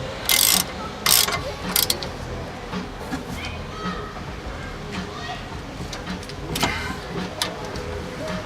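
A torque wrench ratchets on a car with quick, sharp clicking bursts, loudest early on, followed by softer intermittent clicks and low mechanical handling noise.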